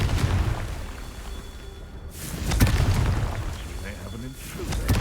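Explosive Confringo spell blasts go off in the video game Hogwarts Legacy as loud, rumbling booms and whooshes, with a character's voice speaking over the game sounds.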